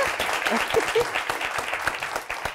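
Studio audience applauding, a steady wash of many hands clapping at moderate loudness throughout, with a few faint voices mixed in.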